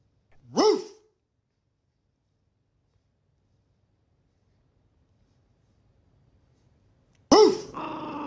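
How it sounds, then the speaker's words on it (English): A dog growls and barks in two short bursts several seconds apart, close and fairly loud, with near silence between them. "Bark at your dog. Woof!"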